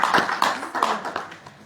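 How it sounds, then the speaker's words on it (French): Audience applause at a women's leadership conference in Paris's Hôtel de Ville, a short burst of claps with distinct rhythmic hand hits that fade toward the end, no voices. "Je pense que tu mérites vraiment des applaudissements."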